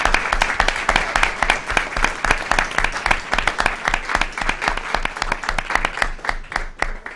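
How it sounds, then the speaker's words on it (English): An audience at a 2015 candidate forum gives a round of applause, dense, even clapping that stays loud and steady throughout. "I hope our audience members will help me give our candidates a big round of applause this evening."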